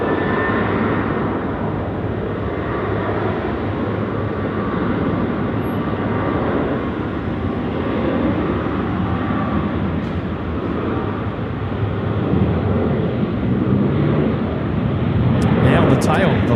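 A Boeing 737-800 jet rolls and roars at Sydney Airport at night, a steady, loud engine noise that swells slightly toward the end, with people talking over it.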